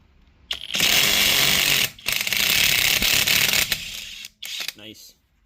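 A Flex compact cordless impact wrench works lug nuts on a rusty car, firing loud close bursts of rapid hammering, a long burst then shorter ones separated by brief pauses.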